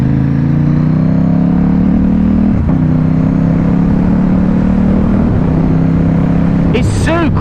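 A Ducati Diavel 1260 fitted with a Healtech quick shifter rides at speed. A loud, steady engine drone sits under heavy wind roar, with a brief dip around a gear change.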